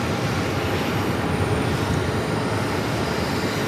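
Frontier Airbus A320neo coming in to land at Phoenix, a loud, steady broadband jet roar holding constant throughout.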